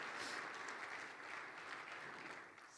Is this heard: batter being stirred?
no